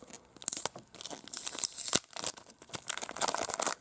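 Packing tape being ripped off a basketball card mystery box, with repeated sharp tearing strips and crinkling crackles in quick irregular bursts, close and fairly loud.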